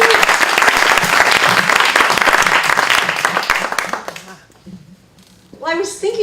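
Loud audience applause at a WestSide Stories storytelling event for a storyteller, dense clapping that fades after about four seconds before a voice begins speaking.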